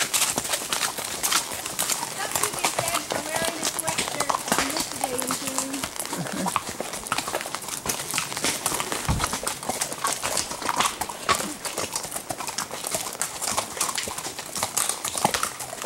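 Horse hooves clip-clop steadily along the rocky Wilson Creek Trail in Grayson Highlands State Park, a continuous close rhythm of footfalls on stone under outdoor ambience, with a rider's voice now and then.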